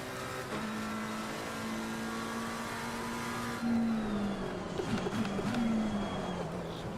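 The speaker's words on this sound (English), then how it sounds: "there's the BMW that I gave the punting to, overtaking me" A BMW race car overtakes at Silverstone in the Assetto Corsa Competizione racing game, a sustained buzzing engine drone that swells and shifts pitch as it draws alongside, with tyre and engine noise layered close.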